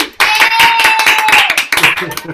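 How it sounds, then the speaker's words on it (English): Audience clapping and cheering at a children's voice recital, a lively burst of applause from several people with an excited voice calling out over the claps. "Everybody's cheering on."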